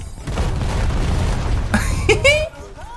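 A bomb explodes after a dive-bombing run in War Thunder's WWI-era air combat, a deep booming blast with low rumble, while a voice talks and exclaims over it near the end.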